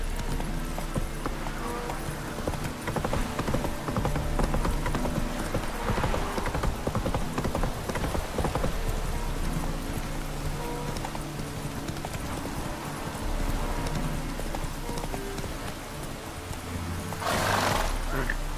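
Roach the horse gallops in The Witcher 3, hooves clip-clopping in a steady rapid rhythm throughout, with a whinny near the end and game music and voices mixed underneath.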